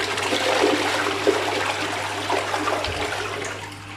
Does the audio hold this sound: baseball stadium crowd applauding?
no